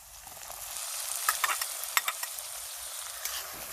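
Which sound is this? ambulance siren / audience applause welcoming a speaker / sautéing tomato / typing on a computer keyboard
sautéing tomato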